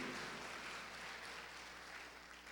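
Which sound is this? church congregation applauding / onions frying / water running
church congregation applauding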